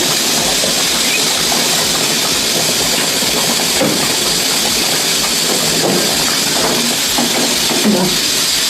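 A pressure cooker of dal vents steam on a home kitchen stove, a loud, steady hiss that fills the whole stretch without pause.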